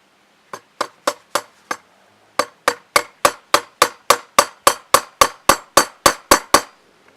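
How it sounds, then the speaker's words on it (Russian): A hammer strikes a nail into a removable beehive floor in sharp, ringing blows: four spaced hits, a brief pause, then a steady run of about sixteen quicker strikes. "С помощью молотка и гвоздя."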